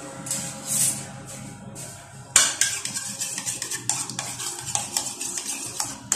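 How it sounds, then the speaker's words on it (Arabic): Chicken wings are stirred into a lemony seasoning mixture in a bowl, giving soft wet squelches and scattered close clinks of utensil against dish, with a sharper knock partway through and no talking. "صافي تنخلطها مع هاد الخليط"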